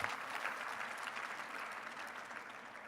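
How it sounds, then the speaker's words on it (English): Warm applause from the audience at a startup pitch competition, dense and even clapping that continues steadily throughout, heard from within the hall and gradually easing toward the end. "Give him a warm applause,"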